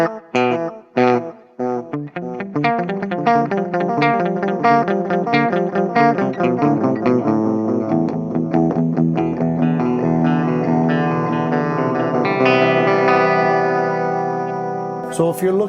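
An electric guitar plays picked notes and chords through a small Xvive Echoman Mini analog delay pedal, with repeating echoes that trail and smear into a slightly degraded wash.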